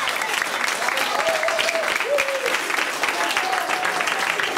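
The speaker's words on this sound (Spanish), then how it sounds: "para los que os pido un fuerte aplauso" A festival audience applauds the presenters with sustained, dense clapping that fills the whole clip, with faint voices and tonal murmurs mixed in beneath.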